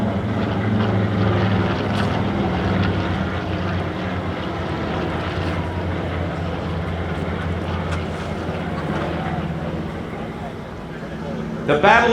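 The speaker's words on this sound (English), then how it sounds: "here come the 2 TBM Avengers and the Curtiss Helldiver, nicknamed the Big-Tailed Beast" Two WWII TBM Avengers and a Curtiss Helldiver fly over during a World War II aircraft flyover in Washington D.C., their piston engines a steady, heavy drone that holds throughout while a man announces over a loudspeaker.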